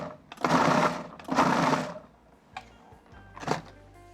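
A food processor or blender pulses raw ground meat, lamb or beef, in short bursts: two long loud whirs followed by a few quieter brief pulses, close and with no talk.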